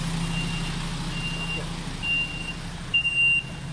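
A truck idles with a low engine rumble while its reversing alarm sounds a series of steady high-pitched beeps, the last few louder and closer.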